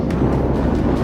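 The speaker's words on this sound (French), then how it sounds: "Il y a un petit peu de vent, le vent s'est levé." Wind blowing at a hilltop castle in Peyrusse-le-Roc, a steady low rumble buffeting the microphone throughout, loud and continuous with no one talking.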